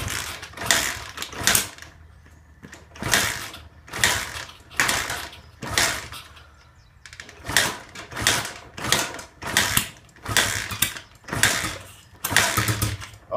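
A 1984 Honda XR80 motorcycle with the choke on being kicked over repeatedly: about ten rhythmic mechanical churning strokes, each a short clattering burst separated by brief pauses, close and fairly loud, without the engine catching.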